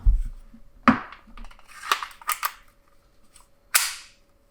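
An SSP18 blaster fires sharp, close cap-gun-like cracks, several irregular shots with metallic rattles and clicks between them, loud and with no talking.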